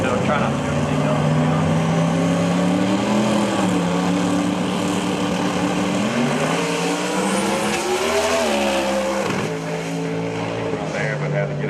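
A PDRA Pro drag race car roars at Maryland International Raceway, a loud sustained engine drone with a droning pitch that rises, dips and shifts as the run unfolds, with a commentator talking over it.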